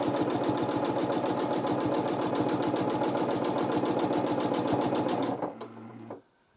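A sewing machine runs steadily at high speed for free motion quilting, its needle rattling in a fast, even rhythm close up before it slows and stops near the end.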